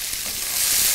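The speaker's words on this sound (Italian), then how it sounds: "in una padella scaldiamo 2-3 cucchiai d'olio, aggiungiamo uno spicchio d'aglio schiacciato, lo lasciamo imbiondire e uniamo le zucchine" Zucchini frying in a pan with a few spoonfuls of oil and a crushed garlic clove gives a bright, continuous sizzle, close and even, growing slightly louder over one second with no voices.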